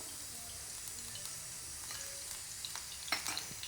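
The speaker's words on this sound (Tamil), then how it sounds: "அதில் கொஞ்சம் தேங்காய் எண்ணெய் ஊற்றுறேன்." Coconut oil sizzles softly in a pan while appam batter is prepared, a steady low hiss with a few sharper crackles near the end.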